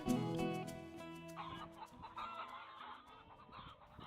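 Several free-range farm laying hens clucking close by, a busy overlapping chorus of short clucks and squawks with a few louder calls.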